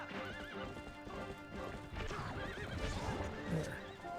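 Horse hooves clip-clop at a gallop and a horse whinnies in the Zelda: Twilight Princess video game, with steady hoofbeats under game music and effects, loud and continuous throughout.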